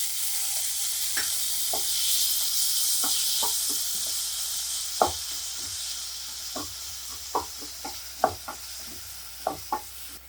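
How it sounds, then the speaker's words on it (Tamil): Onions sizzle steadily in a pan while tomatoes are added, a constant frying hiss broken by scattered soft stirring clicks and taps, close and alone without talk. "இப்போ இந்த ஸ்டேஜில் தக்காளி பழம் ஆட் பண்ணிடலாம்"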